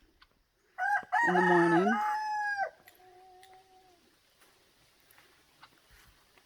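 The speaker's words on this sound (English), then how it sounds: "I'll bring you over to the coop here. Rusty's gotten pretty nasty" A rooster crows once loudly and close, a long strained call, followed by quiet background and a brief spoken phrase.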